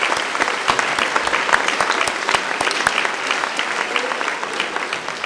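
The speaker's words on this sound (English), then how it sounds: "But please give another round of applause for Mrs. Thornton and the band and orchestra" A school audience applauds the middle school band and orchestra at an eighth-grade evening event, with steady, dense clapping filling the hall continuously from start to finish.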